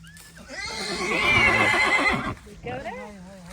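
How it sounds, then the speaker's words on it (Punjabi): A horse gives a long, loud, wavering neigh that rises and falls, then a shorter whinny, with voices nearby. "ਇਹ ਗੁਰੂ ਮਹਾਰਾਜ ਦਾ ਘੋੜਾ ਹੈ"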